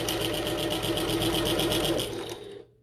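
A sewing machine stitches a fabric bucket tote, running in a fast, even rattle close up for about two seconds before cutting off abruptly.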